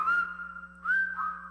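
A person in a radio advert whistles a short, clear two-part tune, close and alone, with a steady low hum underneath.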